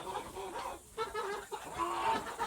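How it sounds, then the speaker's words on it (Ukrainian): Chickens in a cage clucking and squawking in agitated bursts as they jump about, close by, with overlapping calls and a brief pause near the middle. "Тут там кури дуріють, скачуть в сусідній клітці"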